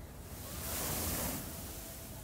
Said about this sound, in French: Comme j'aime voir les vagues heurter les rochers